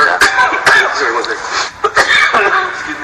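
Several short, sharp coughs come in bursts, some mixed with a voice and light throat clearing, loud and close.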